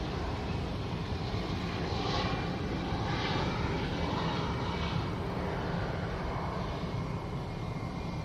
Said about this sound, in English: So got British Airways coming out for London Heathrow.